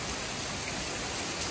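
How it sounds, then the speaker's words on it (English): Heavy rain pouring down hard, a dense, loud, unbroken hiss of water hitting surfaces close by, steady for the whole moment with no voices over it. "Guys, literally it's pouring like super hard."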